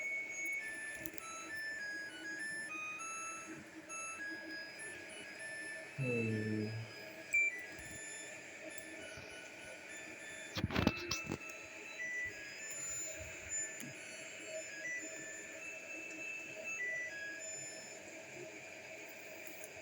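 A Samsung washing machine sounds a series of high, evenly spaced beeps signalling the end of its cycle, faint over a quiet room hum, with a brief murmur and a couple of soft knocks.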